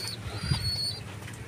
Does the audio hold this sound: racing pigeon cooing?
yes